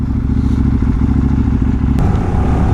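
A KTM 890 Duke with a reprogrammed ECU and aftermarket exhaust silencer idles loud and close with a steady throbbing burble, then a short sharp blip at the end.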